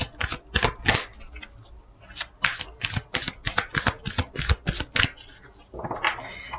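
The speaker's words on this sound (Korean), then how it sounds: "동물 오라클 카드 뽑아보도록 하겠습니다." Animal oracle cards being shuffled by hand in repeated quick riffling bursts, close and crisp with short pauses between handfuls, no talking over it.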